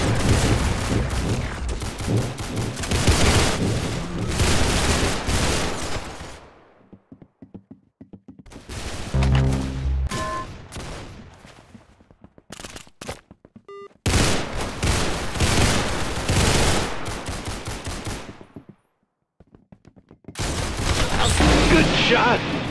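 Rapid bursts of gunfire erupt in a first-person shooter match of Arsenal, loud and dense, broken by two short pauses with scattered clicks and pings before the shooting resumes.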